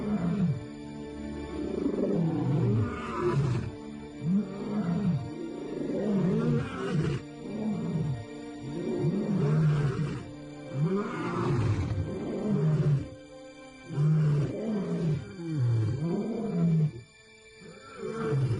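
Several male African lions roar in the wild, loud close bellowing calls repeating in rhythmic series of grunting roars, overlapping and continuing through the clip with brief lulls.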